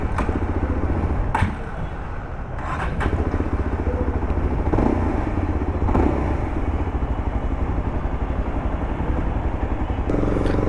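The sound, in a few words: Yezdi Adventure motorcycle engine starting and running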